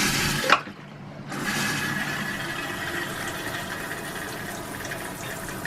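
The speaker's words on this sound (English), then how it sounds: "I'm going to put a little water in the toilet" Water is poured into an RV toilet bowl, a brief splash followed by a steady close gurgling stream filling the bowl, with no talking.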